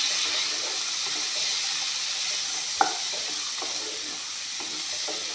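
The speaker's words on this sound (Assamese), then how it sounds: "মটৰখিনি অলপমান ভাজি ল'ম।" Green peas fry in a pan in a soft, steady sizzle, with a few light stirring scrapes and one sharp clink from a utensil against the pan.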